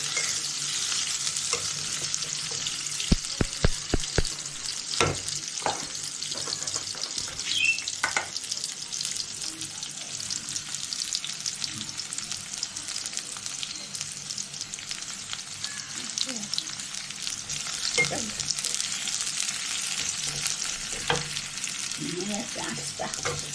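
Onions frying in oil in a pan with garlic about to go in, a constant close hiss and crackle, broken early by a short run of spoon taps on the pan and scattered stirring scrapes.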